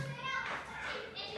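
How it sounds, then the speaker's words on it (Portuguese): Children shout and play outdoors in a steady, continuous din of high young voices, heard from indoors as a distant, muffled background. "porque tem umas crianças gritando lá fora"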